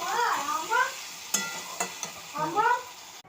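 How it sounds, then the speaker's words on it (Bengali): Eggs sizzle in a pan of hot oil while they are stirred for an egg curry. A couple of sharp spoon-on-pan knocks break the steady frying, and a faint voice runs underneath. "এখন আমি ডালাটা করে ফেলছি ডিমটা কষাচ্ছি ভালো করে"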